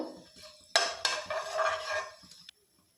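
Cardamom, cinnamon and cloves frying in hot oil in a pan: a sudden close burst of sizzle that swells and crackles for under two seconds, then cuts off sharply to near silence.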